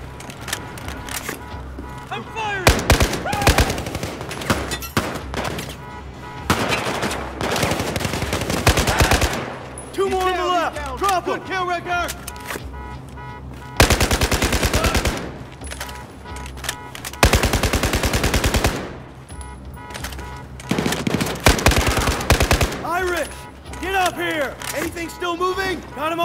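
Bursts of rapid machine gun fire in Battlefield 4 rattle in long volleys and short clusters, loud and close, with shouted voices and combat clatter in between.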